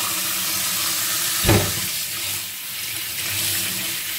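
Hot water runs steadily from a tap into a sink in a continuous rushing stream, with a brief louder splash about midway.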